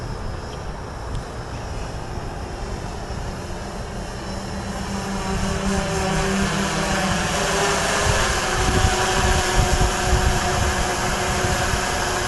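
A Typhoon H drone flies off and returns home outdoors, its steady motor whine droning continuously and growing slightly louder over twelve seconds, heard alone at a moderate distance.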